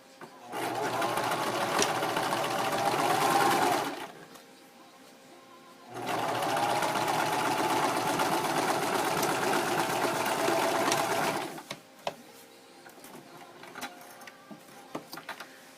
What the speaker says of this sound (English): We're just going to lock our stitches in and then sew the line.